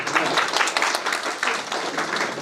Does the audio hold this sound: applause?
yes